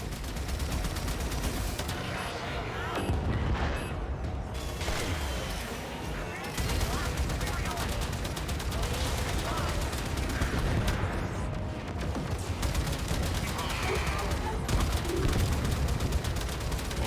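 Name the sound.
guns and torpedoes firing at enemies in a video game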